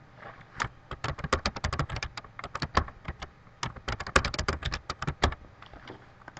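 Rapid, uneven keystrokes on a computer keyboard, close and fairly soft, clattering in quick bursts with short pauses between.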